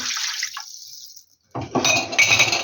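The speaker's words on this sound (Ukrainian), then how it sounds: "Так, всипаємо цукор, вливаємо олію, оцет, водичку." Oil, vinegar and water poured for a beet salad dressing: a steady close pour, a brief pause, then a fuller splashing stream, loud with no talk.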